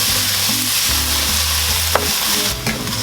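Red curry paste sautés in a hot pan for a red curry chicken noodle soup, a bright steady sizzle with close stirring scrapes and a couple of sharp clinks, no voices.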